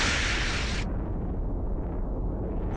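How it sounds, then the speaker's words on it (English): Anti-guided missile bursts from a warship in the Modern Warships naval combat game: a loud, dense explosive roar that fills the first moment, then fades into a low, sustained rumble. "you really feel that you launch a lot of anti-guided missiles"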